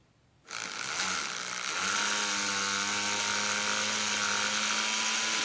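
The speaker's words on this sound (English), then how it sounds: "Alright, check out the Dremel." A portable Dremel 7700 rotary tool converted to run on external regulated power at 4 volts spins up after a brief silence, then holds a steady high-pitched whine with a low hum beneath, loud and close.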